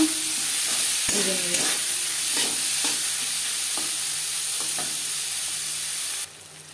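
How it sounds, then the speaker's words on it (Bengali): Chopped onions fry in a little oil until reddish for an egg curry, a steady sizzle under repeated scraping stir strokes, close and fairly loud, ending with a sudden drop in level. "এবার দিয়ে দেবো পেঁয়াজ কেটে পেঁয়াজ লালচে করে"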